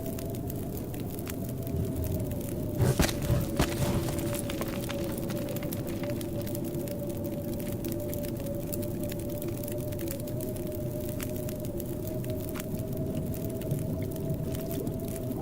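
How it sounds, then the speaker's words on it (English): Wind of an approaching storm in the video game The Long Dark, a steady low roar that stays loud and constant throughout, with a sustained droning tone running under it and a few brief knocks early on. "Sounds like a storm's coming in."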